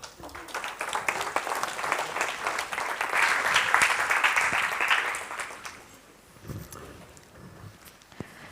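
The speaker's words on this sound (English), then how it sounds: "welcome them on stage with a warm round of applause" Warm audience applause welcomes presenters onto the stage at an evening leadership event, a dense steady clapping that swells to a peak and then thins out into a few scattered claps near the end.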